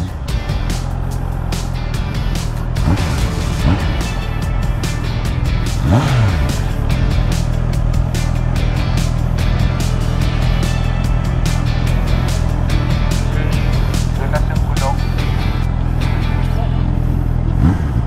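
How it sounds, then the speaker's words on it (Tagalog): A 2024 Honda CB650R E-Clutch motorcycle engine runs loud and close during a test ride, a continuous mid-pitched drone with rising revs and a shift around the middle, steady throughout with wind and road noise. "Ayan, siya nagte-test drive ngayon."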